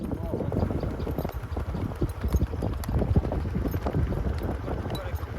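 Steady clip-clop of horse hooves moving along at a trotting rhythm, fairly close, with people talking over it.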